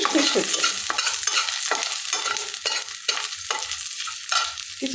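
Garlic and dried red chillies fry in mustard oil for a coriander-leaf bharta, a loud crackling sizzle broken by repeated rhythmic scrapes of a spoon stirring in the pan.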